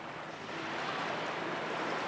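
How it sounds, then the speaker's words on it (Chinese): Ocean waves wash on a beach at night as a steady, soft rushing surf, with no voices. "原来啲海浪声比起 disco 啲音乐"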